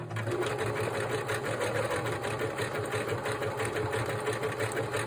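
A sewing machine runs steadily for the full stretch, stitching overlapping pieces of lace together for a journal cover with a continuous, even mechanical whirr that stays close and loud.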